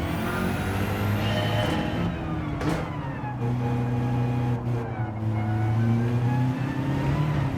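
A race car in Gran Turismo 7 lapping the Nürburgring, its engine revving loudly and steadily with rising and falling pitch through gear changes, a continuous close drone throughout.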